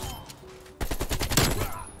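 An AK rifle fires in Black Ops Cold War: after a brief quiet moment, a rapid burst of automatic shots rattles out loud and close for just over a second.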